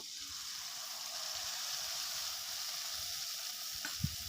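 Mustard spice paste hits hot oil in a pan for a Bengali dish, and a broad, steady hiss of frying runs throughout with a couple of soft utensil knocks near the end.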